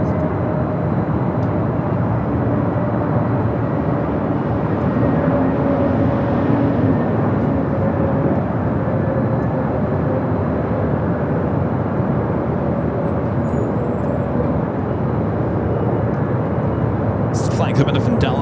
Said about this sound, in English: Coming in from Dallas, Fort Worth, Texas, A321 Neo.